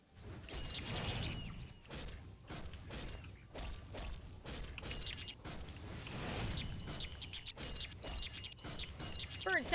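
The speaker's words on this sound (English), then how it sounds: "Bird sounds, bird sounds, bird sounds," Repeated chirping bird calls ring out in the outdoor wilderness of the video game The Elder Scrolls IV: Oblivion, several short clustered tweets layered over rustling ambient noise and thumping footsteps or game effects.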